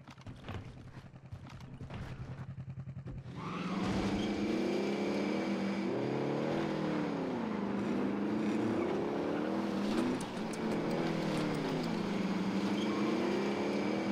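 A vehicle engine in Call of Duty Warzone (Cold War era) kicks in after a quieter opening and then roars continuously, with its pitch rising and falling in waves as it drives, loud and close.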